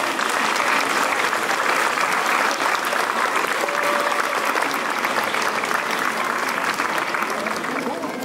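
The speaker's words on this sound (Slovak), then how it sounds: "Poprosím veľký potlesk." An audience at a folk festival in Liptovské Sliače applauds, a dense, sustained clapping from a large crowd that stays loud and even the whole time.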